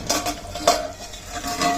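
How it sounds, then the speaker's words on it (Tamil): A utensil scrapes and clinks against a pan while stirring chicken thokku with tomato, soft gentle strokes with a faint sizzle beneath, close and unaccompanied by talk. "அப்பப்போ வந்து கலரி விட்டுட்டே இருக்கணும்."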